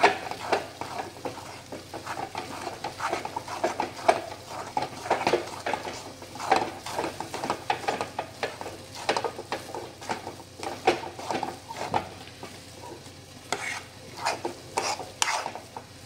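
Gram flour zunka mixture is stirred steadily in a pan, giving a loud, continuous scraping and sizzling with repeated utensil strokes and no talking.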